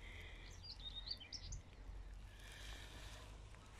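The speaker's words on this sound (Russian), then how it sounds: "шелест листвы, пение птиц" Faint bird chirps and short tweets ring out over a quiet, low background hum outdoors, with leaves rustling.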